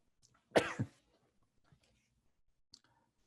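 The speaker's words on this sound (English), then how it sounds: "I was coughing, okay, sneezing" A single sharp cough, close and fairly loud, followed by faint clicks and quiet room sounds.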